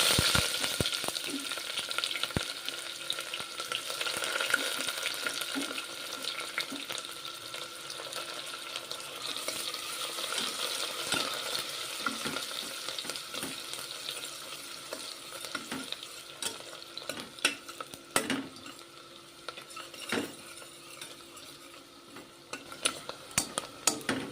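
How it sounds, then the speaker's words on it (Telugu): Onions frying in a pan with cloves, cardamom, cinnamon, shahi jeera and bay leaf, a steady bright sizzle with frequent stirring scrapes and clicks throughout, close and continuous with no voices. "చూడండి ఉల్లిగడ్డలు బాగా ఎర్ర వేగినాయి"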